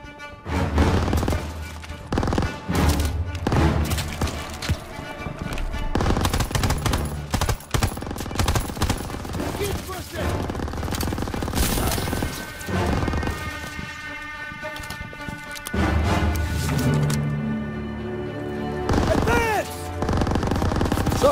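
Machine gun fire rattles through a Call of Duty WWII battle, with loud sustained bursts of automatic gunfire, scattered booms and crashes, and game voices shouting orders between and under the shooting.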